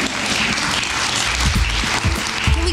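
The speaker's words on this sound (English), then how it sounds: "One more round of applause for Dr. Collins spending her evening with us" An audience at an evening talk applauds, a dense, steady wash of clapping close by that fills the whole short stretch without talk.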